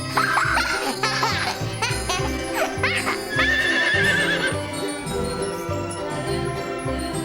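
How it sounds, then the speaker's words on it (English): Horse on a theme-park ride neighs and whinnies over steady clip-clopping hooves, with cheerful music and children's laughter mixed in, loud and continuous throughout. "loves to go on rides on horses"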